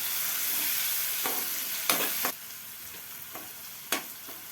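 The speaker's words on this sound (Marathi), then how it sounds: "आपण जे वाटण बारीक करून घेतलं होतं तेही याच्यामध्ये ऍड करूयात आणि चमच्याने व्यवस्थित हे मिक्स करून घेऊयात" A spoon stirs ground spice paste into buttermilk kadhi sizzling in a pan, with several distinct scraping strokes against the pot over a steady frying hiss, close and fairly loud.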